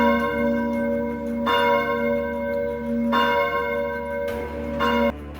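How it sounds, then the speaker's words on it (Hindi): A temple bell rung by a priest strikes clearly about four times at a steady pace, each loud metallic clang ringing out with a long shimmering decay before the next, with no voices. "उसने मंदिर की घंटी बजाई।"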